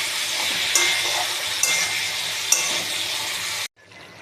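White mustard and green chilli paste going into a hot frying pan; a steady close sizzle with three light clinks of a utensil, then the sound cuts off abruptly.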